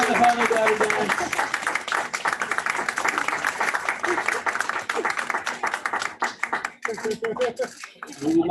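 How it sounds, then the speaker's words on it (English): Sustained applause from wedding guests after the father-daughter dance at a reception, a dense wash of clapping with voices mixed in, steady throughout and fading briefly near the end. "Big round of applause for the father-daughter dance"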